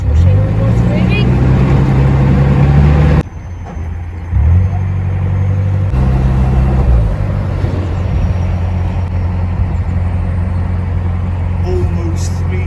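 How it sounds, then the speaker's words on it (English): Washing machine running aboard a moving narrowboat, a steady low droning rumble mixed with engine noise, with a brief dip partway through and voices talking over it. "We've got the washing machine on whilst moving."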